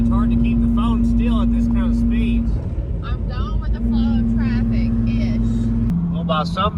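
Ford Thunderbird cruising at highway speed with steady road and engine drone throughout, a continuous low hum under people talking over it.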